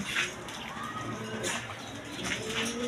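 Pigeons of several breeds coo softly in repeated low, rolling calls, a few birds overlapping at moderate distance against a faint background hiss.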